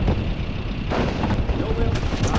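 Thrown explosive going off in the video game Army Men: World War, a loud, dense, rumbling blast wash that fills the stretch, with game sounds layered over it.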